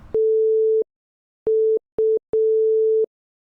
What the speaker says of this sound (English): It is just a sine wave